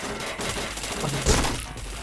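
Gunfire from a shooting video game crackles in a dense, steady barrage, with a sharper, louder burst about two-thirds of the way through.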